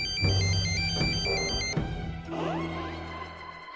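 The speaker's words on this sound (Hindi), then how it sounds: "अरे ये फोन भी बकत पे बकत बजना लगता है।" A mobile phone rings with a bright melodic ringtone, looping continuously and loudly in a temple, with no talking over it.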